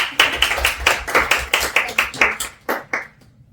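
Roughly a dozen sharp claps come in a quick, fairly regular rhythm, close and loud, with spacing that widens toward the end. They sound like only one or a few people clapping, not a full crowd.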